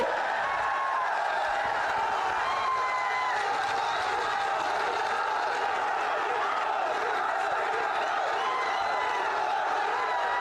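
Crowd at an outdoor political rally breaking into sustained clapping and cheering, a dense wash of applause and voices that holds steady throughout, with scattered shouts rising above it.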